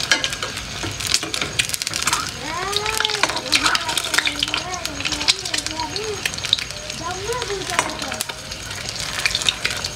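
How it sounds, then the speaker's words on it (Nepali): Chickpeas and potatoes frying in a pan, a steady close sizzle with stirring and clinking throughout, while a voice talks over it. "अब कसरी भुज्यो चना र आलु यसरी सर सर सर सर"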